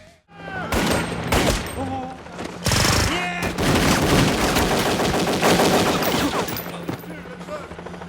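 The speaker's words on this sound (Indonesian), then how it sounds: "tanpa pikir panjang, ia menarik pelatuknya dan" Gunfire in an action film scene: loud rapid bursts and repeated shots crack out over several seconds, mixed with impacts and scene noise, with only faint voices.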